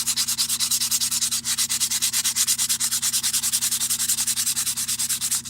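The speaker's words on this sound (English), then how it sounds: "let's see if it'll sand down better with that." Fast, even back-and-forth sanding strokes grind a burr off a tool, loud and close, repeating steadily without pause and with no talking.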